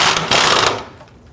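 A wrench snugs down a rear upper control arm bolt on a 1999-2004 Jeep Grand Cherokee, giving a brief, close burst of rapid mechanical ratcheting that drops away after under a second.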